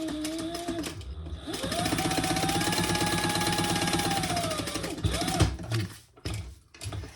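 A sewing machine top stitches a small leather doll wallet, its motor whirring in a long steady run of rapid needle strokes that stops near the end, close and loud.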